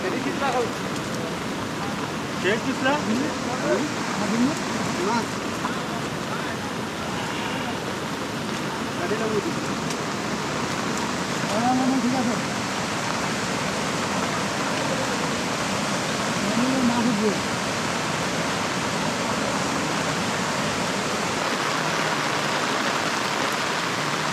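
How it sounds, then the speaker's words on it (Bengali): Continuous rain falls as a soft, steady hiss over a wet fishing spot during a rainy day, unbroken and fairly quiet, with faint voices and occasional distant sounds mixed in. "বৃষ্টি কিন্তু অনবরত পড়তেই আছে"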